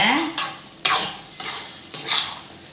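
A utensil scrapes and clinks against a pan in a few distinct strokes as fried prawns are stirred into Manchurian sauce, with a faint sizzle between the strokes.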